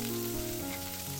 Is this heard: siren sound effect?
no